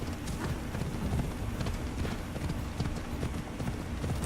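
Horse hooves pound steadily beneath a rider in Assassin's Creed Odyssey on Kythera Island: a dense, fast clip-clop that stays loud and continuous throughout with no voices.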